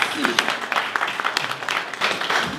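An audience claps for a singer at an album signing evening, a steady patter of many hands running throughout, with voices talking over it.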